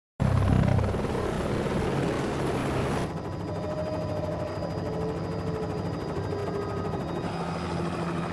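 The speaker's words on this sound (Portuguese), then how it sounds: "Na reserva abaixo do meu helicóptero, os administradores da vida selvagem estão rastreando elefantes." A helicopter flies over Makalali wildlife reserve in South Africa, its steady rotor and engine roar loud and continuous throughout, with a sharp shift in tone partway through.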